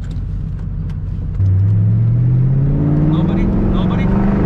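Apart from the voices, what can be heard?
2004 Mustang GT Bullitt engine accelerating in second gear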